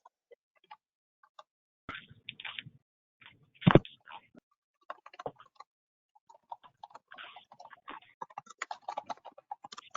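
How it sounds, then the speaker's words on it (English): Sparse, light clicks of a computer keyboard with one brief flurry of keystrokes, picked up faintly over an open microphone on a webinar call; no talking. "I hear someone typing away"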